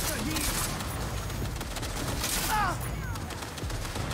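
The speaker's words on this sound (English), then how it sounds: "we gonna rock with the shotgun" Shotgun blasts from the video game Cyberpunk 2077 Phantom Liberty, repeated heavy booms mixed with game effects and overlapping voices, loud and dense throughout.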